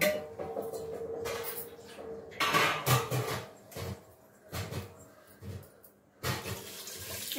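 Water is poured into a pot of country chicken curry in several short, splashing bursts separated by brief pauses. The pouring sounds close by, with faint clinks from the pot.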